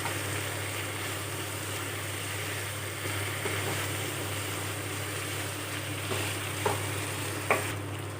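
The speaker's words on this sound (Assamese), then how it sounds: "এতিয়া মই আকৌ অকণমান লৰাই লৈছোঁ" Duck meat curry with potatoes being stirred in a pan, a steady scraping, sizzling cook sound over a constant low hum, with a couple of sharper clinks near the end and no talk.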